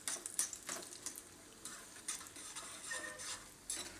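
Dal lentils frying in a pan and being stirred with a utensil, faint irregular scrapes and taps over a soft sizzle, close and quiet with no talking.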